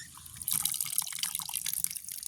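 Water dripping and splashing while vegetables are washed by hand in a basin for a village curry, with steady trickling and small splashes close by and no talk.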